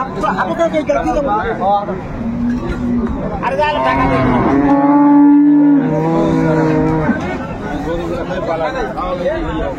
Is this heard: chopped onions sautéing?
no